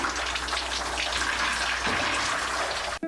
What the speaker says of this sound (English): they decide to get the water running in the tropical shower